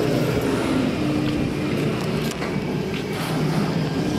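A Rapid 150cc motorcycle engine runs steadily, a continuous low mechanical drone close by with no speech over it.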